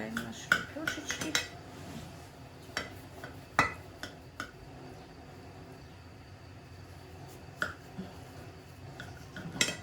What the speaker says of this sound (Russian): И вот так вот нарезаем наши лепешечки.